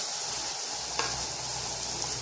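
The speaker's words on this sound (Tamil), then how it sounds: "இப்போ நெய் காய்ச்சிக்கலாம். நல்லா அடிகனமான பாத்திரத்தில் போட்டுக்கணும்." Butter melts and cooks into ghee in a heavy-bottomed pan, giving a soft, steady sizzle with one faint clink partway through.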